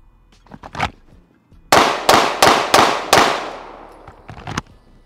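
Pistol fired at targets on a range: five sharp, loud shots in an even rhythm at close range, each with a short ringing decay, framed by fainter clicks and handling noises.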